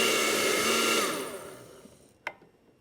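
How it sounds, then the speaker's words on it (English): A blender purees a soup for a fall dinner with a loud whirring drone that fades as it slows and stops, then a single sharp click. "We're going to puree it. And get it as smooth as possible."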